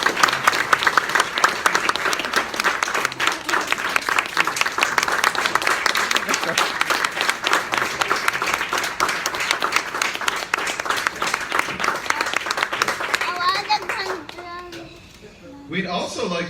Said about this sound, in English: So, a round of applause to that team.